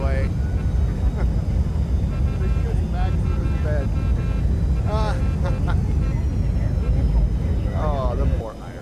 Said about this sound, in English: Hey, now we got the reversers to work this time